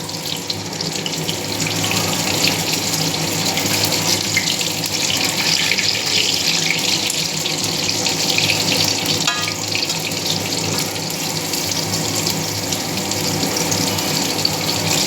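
Eggplant pieces fry in a pan for a home dinner. A loud, continuous hiss of hot oil runs unbroken for about fifteen seconds, close by and with no voices over it.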